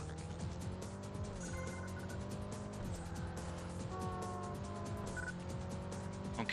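Race cars in the video game Burnout 2 roar together, with engine tones climbing and shifting, tires squealing and skidding, and a steady dense mix of motors throughout.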